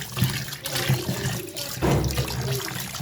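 Sarpunti fish being rinsed under running water at home, with splashing and gurgling bursts of water close by that come in uneven surges and stop briefly in between.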